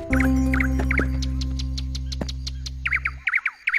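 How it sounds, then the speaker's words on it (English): Cartoon birds sing in a quick run of bright repeated chirps and tweets over a low sustained hum that drops away, leaving the last few louder chirps alone and close. "Can you hear that? What lovely bird song."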